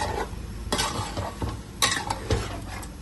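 A little water splashed into a pan of chicken frying for cheese chicken karahi, bringing a burst of loud sizzling and hissing, close by, with spatula scrapes and stirring clatter against the pan.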